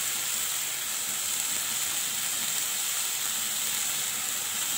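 Spice masala sizzling and frying in a pan for a Bengali prawn dish, a steady close hiss with no talk over it.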